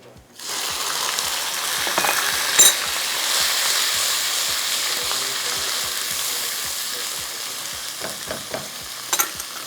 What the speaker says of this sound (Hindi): अभी सिर्फ इसको फ्राई करती हूँ।